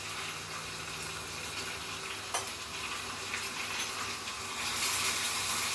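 Ginger paste and turmeric sizzle in hot oil as a tempering for tomato-brinjal pachi pulusu, a close, steady hiss that rises slightly toward the end.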